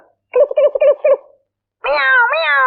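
A house cat gives a quick run of four short, chirpy meows, pauses, then lets out a longer, drawn-out wavering meow, close by and clear with no talk.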